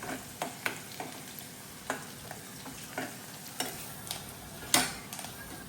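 Four or five garlic cloves fry in a pan until golden brown, a soft steady sizzle broken by sparse clicks and taps of a spoon stirring, quiet and close, with no speech.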